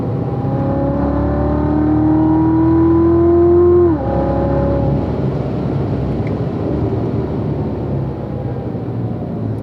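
A race car powers out of turn 2 on the Spring Mountain circuit, its engine climbing steadily in pitch, then a sharp upshift near the middle, followed by rough, loud wind and road roar as it keeps accelerating.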